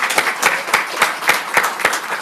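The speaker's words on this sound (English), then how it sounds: "Let's give them one more round of applause." Audience applause for student singers at a Harvard Graduate School of Education event, a steady wash of clapping with sharper bursts of individual claps, fairly close and filling the whole short stretch.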